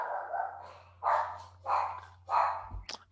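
A dog barks three times in steady, evenly spaced bursts against a faint low hum, followed by a brief sharp knock at the end.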